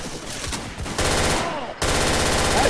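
Rapid automatic gunfire in the Left 4 Dead 2 video game, loud and close, in dense sustained bursts with a brief break partway through before the firing resumes hard and continuous.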